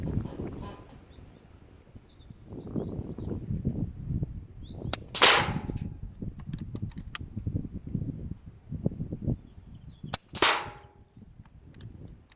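Two sharp air rifle shots from a Weihrauch HW100BP or Daystate Renegade crack out about five seconds apart, loud and close, over a low rustling background.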